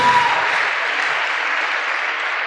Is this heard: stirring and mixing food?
no